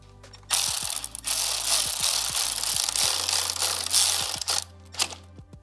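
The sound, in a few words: ratchet tightening bolt on motorcycle handlebar bracket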